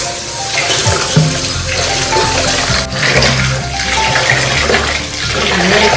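Two cups of rice being washed by hand in water for kajjaya, with loud, close, continuous sloshing and splashing, like a running tap filling a basin.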